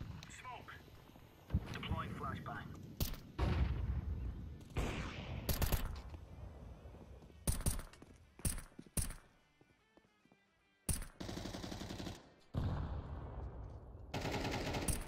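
Bursts of automatic gunfire in Counter-Strike 2, several loud volleys in rapid succession separated by short pauses, with players talking over the action.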